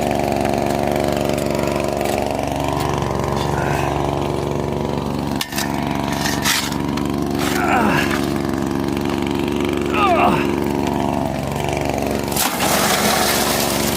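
Gold prospecting dry washer running in the Arizona desert, a steady close engine drone with rattling and scraping from the feed tray, a few sharp knocks, and occasional faint talk over the machine.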